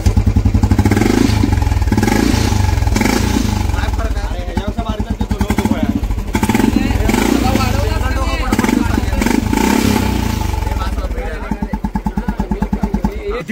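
A motorcycle fitted with a new silencer exhaust revs loudly and close, its rapid pulsing engine note rising and falling across the whole stretch with a clattering idle at the end.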